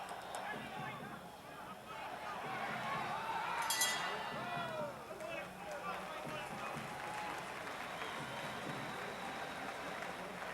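A boxing crowd at an Axel Schulz fight applauds as a round ends, steady clapping and cheering spread through a large arena, with a commentator talking over it throughout.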